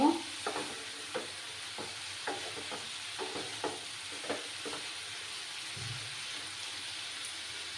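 Scattered scraping and clinking of a spatula stirring fried eggplant and potato in a pan over a faint steady sizzle, no voices.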